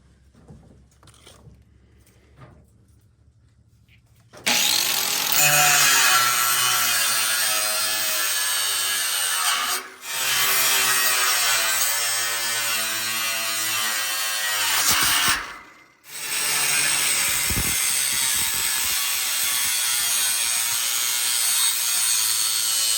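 A power saw cutting a 3 by 3 foot opening for hogs on a homestead build: a quiet start, then loud continuous rasping cutting for most of the clip, broken by two brief pauses.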